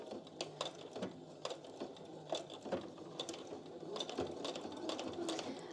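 Sewing machine stitching a fabric bowl cosy, starting with a back stitch, in a steady mechanical whir broken by short pauses and clicks, close and moderately loud with no talking.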